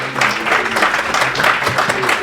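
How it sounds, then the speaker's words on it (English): Audience applause at a tech meetup talk on AI and medicine, a dense, fairly close patter of many hands clapping steadily for a couple of seconds, mixed with faint crowd voices. "Everyone give Dr."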